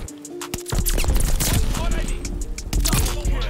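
Several loud, sharp shots from a PTRS-41 anti-tank rifle crack out in Call of Duty Vanguard, mixed with rapid clattering gunfire and other battle noise, with a player talking over it.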